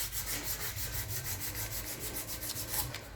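A knife blade, a dagger, is sanded by hand with sandpaper in a continuous, even rubbing scrape. Faint repeated strokes sound close up with no talking.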